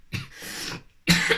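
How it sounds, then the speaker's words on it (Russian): A light cough from someone speaking alone to a camera, two short bursts close to the mic with a brief pause between them, no talk. "незначительное покашливание"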